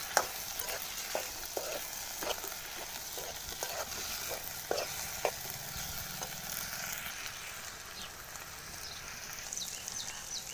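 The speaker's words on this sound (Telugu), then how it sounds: "పసుపు, వేసి బాగా కలపాలి." Okra frying with turmeric in a pan on a wood-fired stove, stirred by hand: a steady sizzle with a series of sharp scraping and knocking strokes from the spoon in the first half, fading to a quieter continuous hiss.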